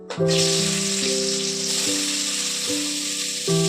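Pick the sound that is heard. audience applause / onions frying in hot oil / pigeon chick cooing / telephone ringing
onions frying in hot oil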